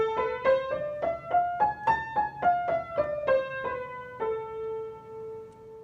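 An A harmonic minor scale played on an instrument climbs and descends in about fourteen evenly spaced, bright plucked notes, ending on a longer sustained tone, unaccompanied and fairly soft.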